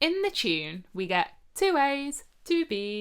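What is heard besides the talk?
No distinct noise like a dog, phone or traffic.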